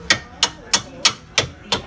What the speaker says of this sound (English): Hit it with the hammer, slow.